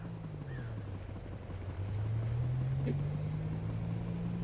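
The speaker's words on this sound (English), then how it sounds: "The car noise is up here." A low, droning car engine hum in the video game Easy Delivery Co. slowly rises in pitch and grows slightly louder, steady and continuous like a game engine loop.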